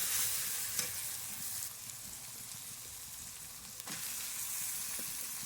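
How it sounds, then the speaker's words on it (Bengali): Chopped capsicum fries in a pan for chicken ghugni, a bright, steady crackling sizzle with a couple of sharp utensil knocks as it is stirred, and no speech. "এবার দিয়ে দেবো ক্যাপসিকাম কাটা। ভালোভাবে ভেজে নিয়ে তারপর দেবো টমেটো।"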